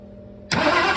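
Engine of a 1978 Ford Bronco barn find, dosed with starting fluid, suddenly catches and roars to life after a quiet cranking moment, loud and close.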